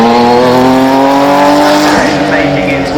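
Ford Mustang GTD supercar racing up the hill at the Goodwood Festival of Speed, a loud close engine roar with a strong, steadily climbing harmonic tone and a brief dip near the end as it passes.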